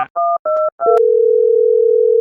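A telephone call starts with several short dialing beeps, followed by a steady, close, continuous dial tone lasting over a second.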